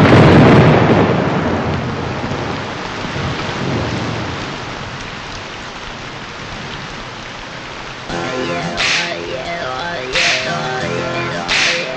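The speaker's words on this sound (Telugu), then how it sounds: "వాన పడుతుంటే బాగుంది కదా అని చూస్తున్నాను" Heavy rain falls in a steady hiss with rumbling thunder, loud at first and easing slightly, while a musical score rises over it in the latter part.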